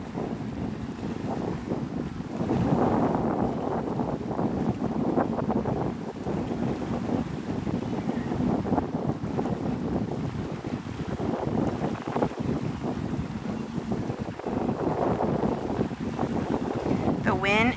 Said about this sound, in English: The wind is so hard.